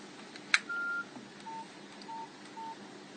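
A click followed by four short phone dialing tones, the first longer, spaced evenly over quiet background hiss.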